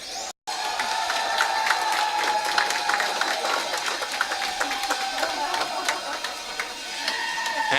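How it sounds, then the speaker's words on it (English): Audience applause and cheering at a curling match, a sustained crowd clapping heard from the arena stands, moderately loud and continuous, with arena noise mixed in. "And based on the amount of applause there"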